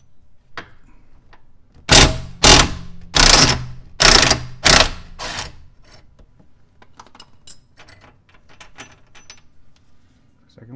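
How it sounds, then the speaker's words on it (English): A hand ratchet loosens a sway bar bushing nut on a Porsche Cayman 987, five loud, evenly spaced bursts of clicking close by, followed by softer scattered clicks and shuffling. "Let me get the second nut off."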